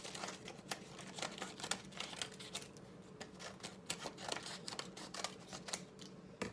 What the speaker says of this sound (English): now that I have my paper all cut, I'm just going to crumple it